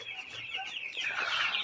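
Eleven-day-old chickens cluck and chirp softly in a short, busy burst, several birds close together with no voices.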